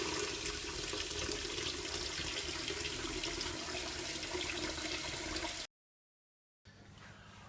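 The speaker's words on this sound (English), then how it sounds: "put it in the sink, drain it in some cold water to stop it cooking." Cold water runs steadily into a kitchen sink as cooked rice is drained, a continuous rushing pour that cuts off abruptly, followed by a quieter stretch of trickling.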